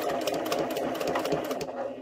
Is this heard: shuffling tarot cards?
no